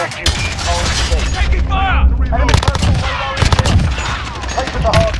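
Rapid gunfire in Call of Duty Modern Warfare multiplayer on the Petrov Oil Rig map, loud bursts of automatic shots and heavy impacts, with radio voices talking over the firefight.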